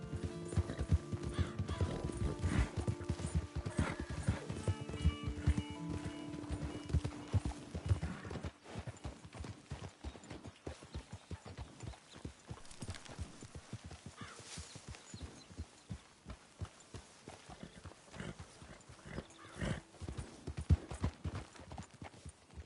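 Horse hooves clip-clop steadily over ground in the video game Red Dead Redemption 2, with a whinny early on and faint voices in the background.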